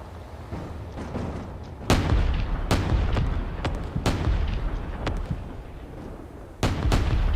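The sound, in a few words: artillery firing in the video game Space Engineers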